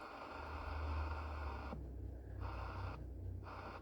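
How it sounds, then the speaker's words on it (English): Faint, steady hiss of static from a Cobra 29 WX NW ST CB radio with the volume turned all the way up, running continuously with brief dips in level. "You can just barely hear static."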